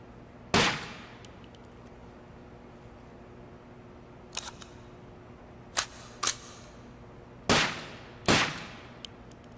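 Suppressed gunshots fire at a shooting range in the video game Takedown: Red Sabre, six sharp muffled cracks spaced irregularly, each followed by a short decaying tail, with near silence between.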